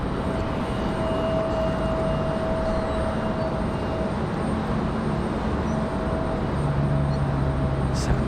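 An airliner departing Raleigh-Durham International Airport for DFW, a steady, broad jet engine roar held at even loudness, with a faint tone running through it and no talk.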